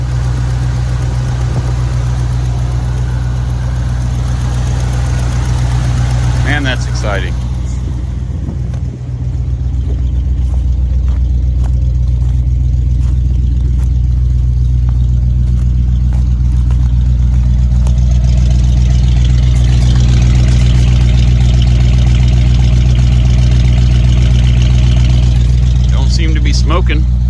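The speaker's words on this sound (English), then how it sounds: "we got a running shop truck." A 1989 Dodge service truck engine runs loud and steady at idle, a deep constant drone with a brief dip partway through, while someone talks over it.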